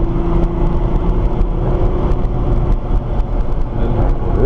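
A Nissan GT-R accelerates downhill on a race track, its engine a loud steady drone with a rising tone toward the end, heard from inside the car with no talking.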